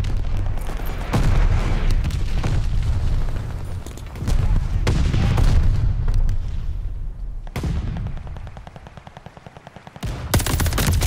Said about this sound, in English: Friendly sending a glide bomb.